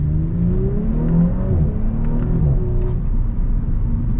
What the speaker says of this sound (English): I can hear a little bit of burbles back there.